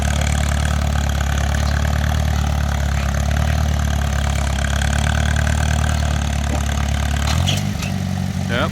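A John Deere tractor pulling in a cultivator class at a restored machinery show, its engine a loud, steady, close drone that labors on and then shifts pitch near the end.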